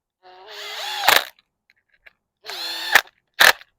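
A power drill drives two screws into a carburetor for a Briggs E-Series mower engine, two whirring runs that climb in pitch and end in a sharp ratcheting clatter, then a brief final burst, close and loud.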